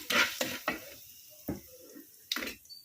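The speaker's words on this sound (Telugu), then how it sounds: "ఇంగు వేసుకుని ఇది బాగా కలుపుకొని" A spoon stirs asafoetida into a hot tempering of curry leaves for ridge gourd peel chutney, giving a few faint, brief scraping and sizzling strokes spaced apart, close by and otherwise quiet.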